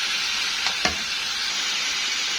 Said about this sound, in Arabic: هبتدي انزل عندي باللحمه المفرومه، وبعد ما نزلت عندي باللحمه هنزل بالفلفل والثوم